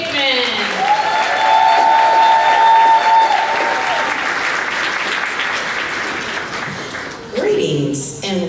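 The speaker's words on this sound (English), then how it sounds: "Let's give a big round of applause for Mrs. Tanya Hickman." An elementary school kindergarten graduation audience claps loudly and steadily for principal Mrs. Tanya Hickman, with cheering and voices over the clapping, which thins out near the end.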